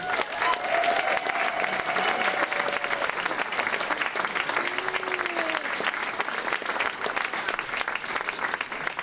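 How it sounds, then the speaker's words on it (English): An audience at a Pechakucha Night event in Burlington applauds its presenters with steady, dense clapping that holds throughout, a few faint voices rising briefly over it. "Let's give a round of applause to these wonderful presenters."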